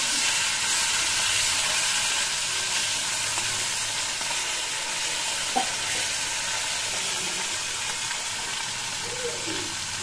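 Steady sizzling and frying from a home kitchen pan while fish, egg curry and fried potatoes are cooked, a continuous broadband hiss running evenly throughout with a faint click near the middle.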